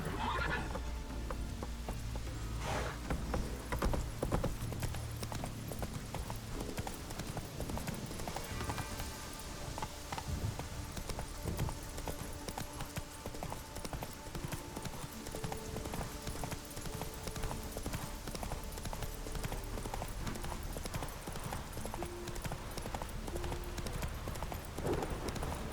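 Horse hooves clip-clop steadily at a gallop in The Witcher 3, with occasional whinnies, layered over continuous game music and ambience throughout.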